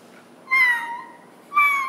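A voice imitates a cat meowing, two short separate mews with a gap between them, close and clear against a quiet background.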